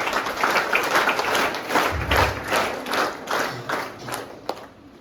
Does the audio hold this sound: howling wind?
no